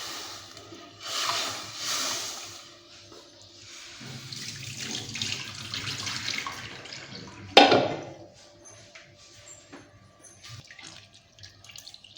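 Tap water running over roasted toor dal as it is washed, a close hissing stream that rises and falls in bursts with a sharp clatter partway through, no speech.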